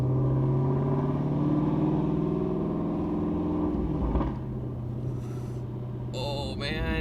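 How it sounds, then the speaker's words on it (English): Ford Mustang GT350 with a Shifteck cat delete, its exhaust droning loud and steady close by with a deep rumble, rising briefly near the end with a few higher crackles. "It is really loud just giving it gas."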